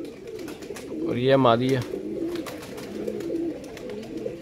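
Pigeons in breeding condition coo in a short, loud burst close by, with someone talking over the birds and softer cooing continuing underneath.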